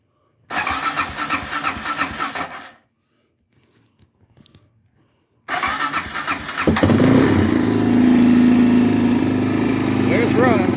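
A drag bike engine cranks and briefly fires, goes quiet, then starts and settles into a loud steady idle near the listener, with a voice talking over part of it.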